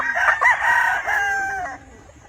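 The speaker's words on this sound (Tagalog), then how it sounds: "She's a Cecil Davis Kelso pullet." A Cecil Davis Kelso gamefowl pullet on a farm gives one loud, close, drawn-out crowing call that tapers off, heard with no talk.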